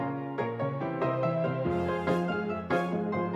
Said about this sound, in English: Now we'll move to brass and horns.